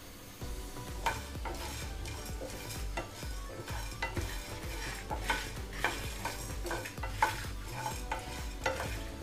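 Spices dry roasting in a pan for temple-style puliyodharai, with a spatula scraping and stirring them in repeated, fairly regular strokes over a faint crackle, close and steady throughout.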